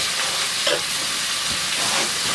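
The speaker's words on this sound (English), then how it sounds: "just going to stir that around a little bit" Baked beans stirred in a deep pot, a busy sizzling, scraping texture with a couple of soft knocks across a short stretch, no voices.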